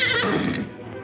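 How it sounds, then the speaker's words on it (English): A horse neighs in an old-time Western radio drama, a single close whinny that falls off over about a second, with no voices over it. "the Lone Ranger reined Silver to a halt on the trail"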